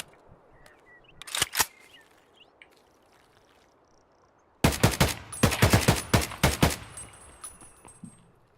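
Gunfire in Escape from Tarkov: a couple of sharp shots early, then after a quiet gap a loud, rapid burst of repeated shots with ringing tails, no talk.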